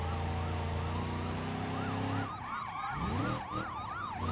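Several police car sirens wail in overlapping rising and falling sweeps inside the BeamNG.Drive driving game, loud and close over a steady engine drone, then the sirens shift and warble as the car drifts past a cluster of cop cars.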